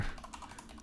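Quick, light clicking of keys on a computer keyboard during typing practice, a short run of soft taps close to the mic.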